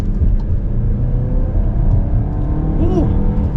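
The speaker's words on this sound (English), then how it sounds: "And let's get our little acceleration here." A 2020 Volkswagen Tiguan SEL Premium accelerates in normal mode, heard from inside the cabin as a steady, loud engine drone and road rumble that builds and holds for a few seconds.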